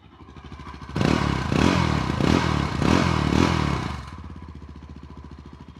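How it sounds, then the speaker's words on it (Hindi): A Yezdi Adventure motorcycle engine idles with a steady thumping exhaust, then revs in four rising bursts before settling back to a loud, close, even idle. "अब आपको एग्जॉस्ट का साउंड भी एक बार चेक कर लेना है, कहीं से भी कोई वियर्ड नॉइस एग्जॉस्ट से नहीं आनी चाहिए।"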